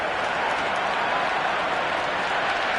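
A stadium crowd in the Cricket 26 video game cheers and applauds in a dense, loud, continuous roar of clapping that fills the whole moment without a break.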